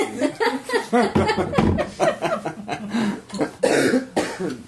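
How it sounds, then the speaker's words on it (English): Several harsh coughs come in bursts close to the mic, mixed with chuckling and brief laughter between them. "I'm just gonna be coughing the whole time"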